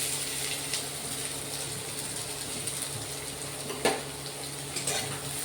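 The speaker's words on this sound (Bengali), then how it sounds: "এবার আমি কুচনো পেঁয়াজটা আমি দিয়ে দেবো ওর মধ্যে।" Chopped onion sizzling in hot oil in a wok, a steady close hissing crackle throughout with occasional sharper clicks and scrapes of stirring.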